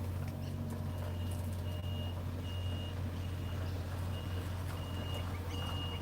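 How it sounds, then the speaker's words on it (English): Backhoe working nearby, its reversing alarm beeping in an even repeated pattern over a low constant engine drone, faint and distant. "It's a frickin' backhoe thingy."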